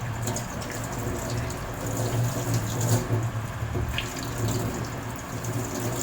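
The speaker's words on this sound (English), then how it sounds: "we need to wash your hands starting from elbow down to your fingertips" Running tap water streams into a sink as hands are scrubbed from elbows to fingertips during a medical hand-washing routine, a steady close rush of water with soft splashing texture throughout and no speech.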